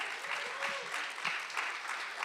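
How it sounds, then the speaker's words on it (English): An audience at a live poetry event applauds a poet with steady, dense clapping that fills the room, fairly loud and continuous, with a few faint voices underneath. "Keep the claps going."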